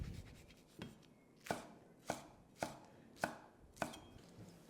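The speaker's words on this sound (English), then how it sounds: "And the spring onion, I'm just going to cut into chunks." A knife chops spring onion into chunks on a board: about six crisp, evenly spaced chops, close and clear, with no talking.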